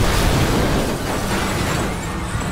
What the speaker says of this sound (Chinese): 一声爆炸把所有人都吓坏了